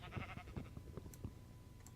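Sheep bleating in a Minecraft modpack while an MFR Rancher machine shears their wool, a few quiet bleats in a rhythmic series, faint and fairly distant, with low rumbling underneath.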